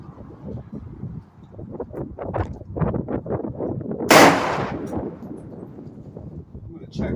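A rifle fires at a 100-yard target outdoors: one loud, sharp shot cracks through the middle of ongoing talk, with a rumbling tail after it.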